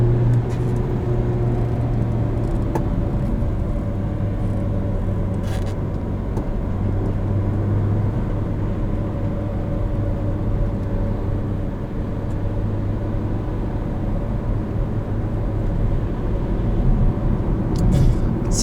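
A 2016 Mini Cooper Countryman S with sport-tuned suspension rolls over road bumps, its steady low engine and road rumble filling the cabin with a few soft thumps, no talking.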